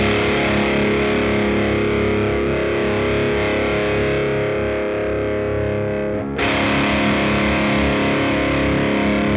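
Heavy rhythm electric guitar chugs through a small amplifier with modest gain and the tone control turned darker, a loud, dense, continuous distorted wall of sound with a brief dip before the chords ring back in full, with no talking.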